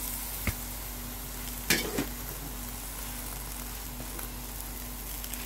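Fresh, uncut Malabar spinach sizzles in a pan of fish curry, a steady frying hiss with a couple of sharp scraping stir sounds near the start, over a faint electrical hum.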